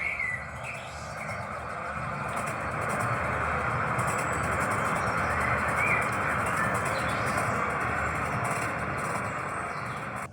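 A train pulls into a station, a broad steady rumble building and holding as it rolls in, with birds chirping faintly above it.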